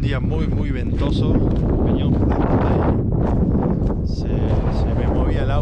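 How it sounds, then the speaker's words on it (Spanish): Heavy, continuous wind roars at the microphone beside a high mountain road among volcanoes at around 4000 metres in the Andes, loud and unbroken buffeting with a faint voice underneath. "Hoy es un día muy, muy ventoso."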